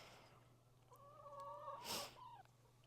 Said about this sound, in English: excuse the chickens. They're always wanting to go back out into their yard, but not today.